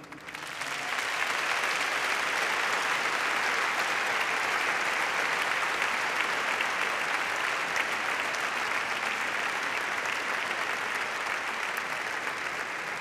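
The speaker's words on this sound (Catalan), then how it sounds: "Per tots vosaltres, per tots ells, demanem un fort aplaudiment." Sustained applause from a large audience at a university graduation ceremony, rising quickly after the first second and holding steady and dense for the rest of the clip, with no voices on top.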